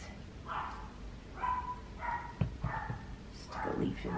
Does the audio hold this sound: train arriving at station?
no